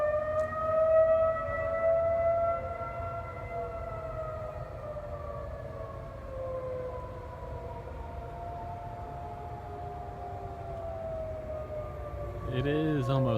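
Outdoor civil defense tornado siren in Dallas near midnight, a long wavering wail that slowly drops in pitch and echoes from afar, with a brief rustling noise near the end.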